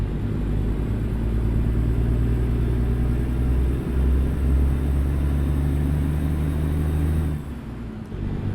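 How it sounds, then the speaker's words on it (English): A Freightliner FLD truck in American Truck Simulator idles with a quiet, steady low engine rumble, close and even for most of the stretch before it drops away near the end. "This engine's much quieter."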